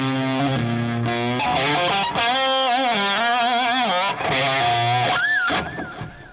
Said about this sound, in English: So it's a pleasing little distortion pedal